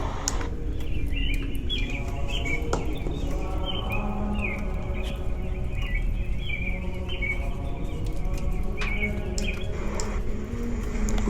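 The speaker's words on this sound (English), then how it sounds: "There's our birds." Early-morning birdsong effect with several birds chirping and trilling in repeated bright phrases, insect-like buzzing and a steady low rumble beneath, continuous and moderately loud throughout.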